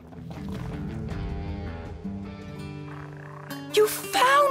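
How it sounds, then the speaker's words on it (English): Rainbow frogs croaking in the Final Fantasy XV video game, a series of deep, resonant tonal croaks repeating steadily and close, ending with a brighter chiming game effect. "The rainbow frogs of legend!"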